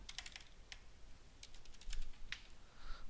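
Keystrokes on a computer keyboard come in short irregular bursts of clicks, close and fairly quiet, while a stream name is entered into process simulation software. No one speaks.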